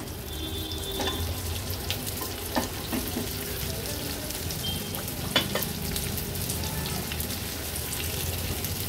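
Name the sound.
bitter gourd (karela) frying in oil in a pan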